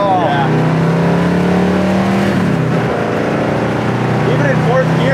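A 1969 Chevelle Malibu SS V8 pulls hard in fourth gear at speed, a loud steady engine drone with rising harmonics under road and wind noise, while occupants talk over it inside the car.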